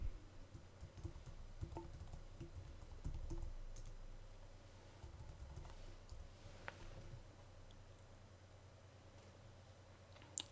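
Someone types a username and password on a computer keyboard: a short run of soft key clicks near the start, then faint background hum with an occasional click.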